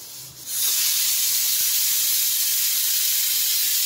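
Potato pieces fry in hot oil in a kadai (wok) for a chicken dish. A steady, loud, hissing sizzle starts abruptly after a brief quiet moment and carries on unbroken to the end, with no voices.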